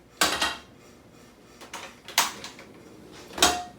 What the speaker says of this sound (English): we're going to put our skillet on to preheat